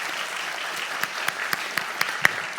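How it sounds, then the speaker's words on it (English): An audience at a carbon pricing conference applauds the panelists, a steady mid-level wash of clapping from many hands with a few louder individual claps punctuating it near the end. "please give a hand to the panelists for their time"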